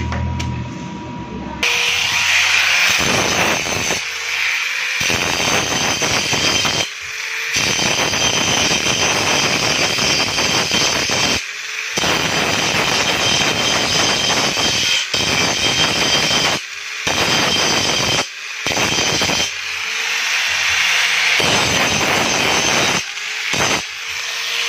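Tubular steel being welded for window grills: harsh, crackling bursts of noise, close and loud, broken by several brief pauses between runs.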